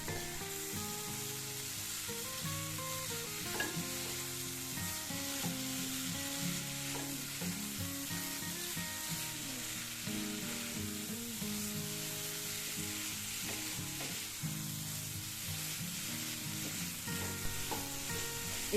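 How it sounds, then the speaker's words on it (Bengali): Vegetables and spices fry and are stirred in a pot for Bengali niramish khichuri, a steady close sizzle with scraping stirs running continuously throughout, no talking. "এরপর এতে আমি সবজিগুলি দিয়ে দিচ্ছি। সবজির সাথে মশলাটি ভালোভাবে মিশিয়ে নিচ্ছি।"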